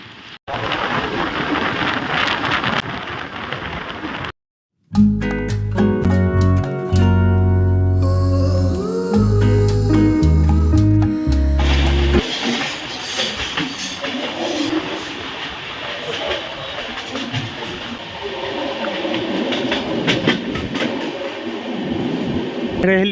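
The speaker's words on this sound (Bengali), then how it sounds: "একশো কিলোমিটার বেগে এখন ট্রেন ছুটে চলেছে" A train running at about 100 km/h between Srinagar and Jammu roars with a steady, loud rumble and rattling clatter, briefly dropping out near the start, with no voices.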